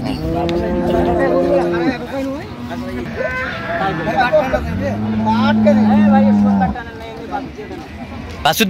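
Dairy cows and calves at Ambari livestock haat in Dinajpur give two long, loud, close moos, the second deep and drawn out, amid busy crowd chatter and nearby talking.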